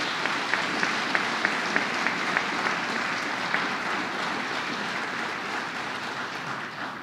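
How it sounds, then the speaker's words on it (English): Sustained applause from an audience at a New York governor's announcement event for a new school of pharmacy in Binghamton, a steady dense clapping wash lasting several seconds with a few sharper individual claps. "Let's give him a round of applause."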